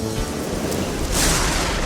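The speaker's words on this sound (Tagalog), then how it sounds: "5 araw nang umuulan sa Barrio Matikas." Heavy rain falls steadily over a rice-farming village, a dense broadband wash with a low rumble of thunder rising toward the end, loud and continuous with no voices.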